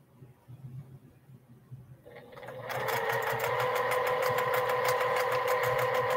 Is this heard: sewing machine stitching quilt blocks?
yes